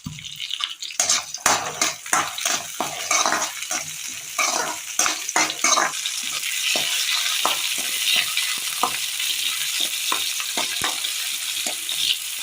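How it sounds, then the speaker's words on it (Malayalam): Small onions (shallots) sautéing in a pan as the base of a Kerala pearl spot fish curry, with loud continuous frying sizzle and brisk clattering stirs of a metal spoon against the pan, close up and without talk. "ചെറിയുള്ളി, ഇത് നന്നായി ഒന്ന് വഴറ്റിയെടുക്കാം."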